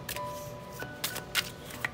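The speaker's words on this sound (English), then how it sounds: "Beautiful shuffle. Really flexible cards." Tarot cards from a flexible deck shuffled on a tabletop, giving a few brief crisp riffling bursts spaced apart, close and fairly quiet.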